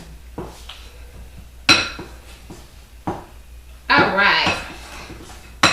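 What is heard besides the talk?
mixing cookie dough in a bowl with a spoon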